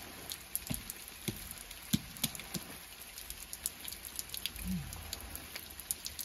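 Light rain falls outdoors, heard as a steady soft patter with scattered sharper drips striking nearby surfaces, faint and continuous with no voices.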